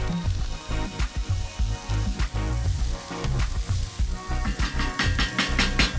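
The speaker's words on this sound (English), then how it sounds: "But whilst that is frying up" Continuous sizzling and crackling of onions frying in a pan with fennel and garlic, with bursts of louder spitting and occasional clinks, no voices.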